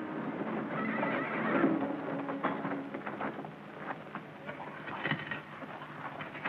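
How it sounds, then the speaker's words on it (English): Horses at a Civil War camp neigh while their hooves clip-clop in a steady patter. The scene is busy and moderately close, and no one speaks. "Jerry, take the horses back to General Johnston's camp"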